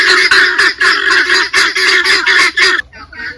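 Guinea fowl calling close by, a run of harsh, loud honking cries repeated in quick rhythmic bursts for nearly three seconds, then cutting off.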